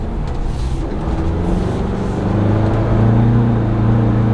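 A 2022 Ford Bronco accelerates in sport mode, a loud, steady engine drone heard from inside the cabin that rises gradually in pitch and volume, with no talk over it.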